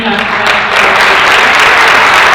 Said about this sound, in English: So a huge round of applause for Vivian Spencer and our